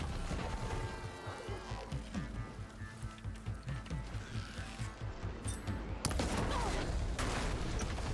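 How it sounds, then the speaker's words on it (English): Explosions in the video game Horizon Forbidden West crackle and boom amid combat effects, with a sharper, louder burst near the end, followed by continuous dense game noise. "Explosions!"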